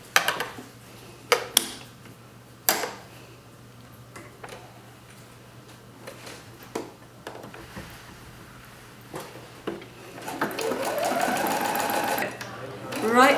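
Sewing machine fitted with a piping foot stitching piping onto the front of a Christmas cushion: a few knocks and taps, then a steady whirring run of stitching toward the end, close and moderately quiet.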